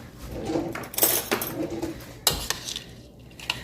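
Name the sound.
mixing tuna casserole ingredients in a bowl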